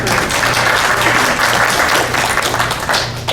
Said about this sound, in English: I think we need to applaud that.